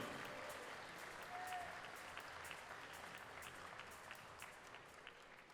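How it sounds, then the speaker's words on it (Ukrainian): An audience at a fight tournament applauds after the first bout, a steady wash of clapping that stays even for several seconds and fades slightly toward the end. "давайте ваші оплески"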